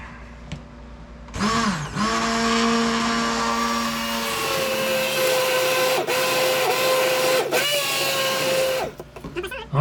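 A Braun blender whirs loudly and steadily through red pepper soup for about seven seconds, its motor pitch wavering slightly under load before it winds down and stops, with a few clicks near the end.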